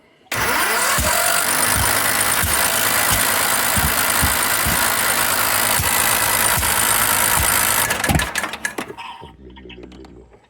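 A car engine cranks on the starter after sitting unused, loud and close, with a rapid rhythmic chug lasting about eight seconds before sputtering and stopping.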